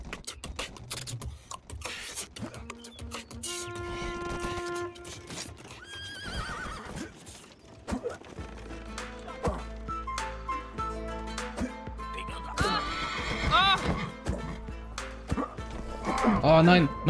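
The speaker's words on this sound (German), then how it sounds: "was ist das denn bitte für ein Pferd?" Horses in the Western video game Rustler whinny loudly and clip-clop along, with game effects and a talking voice mixed in.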